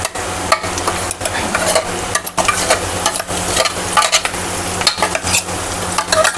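Green chilli chutney being stirred into okra frying in oil in a pan gives a close, continuous sizzle broken by repeated scraping strokes of a spoon against the pan.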